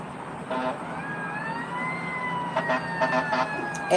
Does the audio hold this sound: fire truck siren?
yes